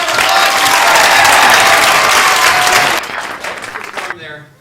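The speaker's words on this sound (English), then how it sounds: "Everybody, big round of applause" An audience applauds at a Halloween magic show. The clapping is loud and steady at first, then drops sharply in volume and trails off into near silence.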